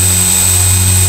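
Syma S107H altitude-hold RC helicopter with rotors spinning, a loud, steady, close whine with a constant buzzing hum and no voices.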